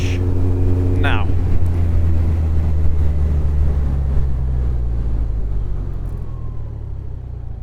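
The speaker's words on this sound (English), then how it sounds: "I'm gonna go ahead and hit the kill switch now." A motorcycle ridden in 4th gear with the kill switch hit, giving a steady loud low engine and wind rumble that slowly fades over several seconds as the bike coasts, with a brief whine early on.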